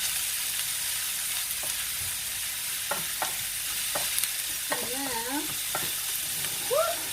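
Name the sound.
stirring egg mixture in a frying pan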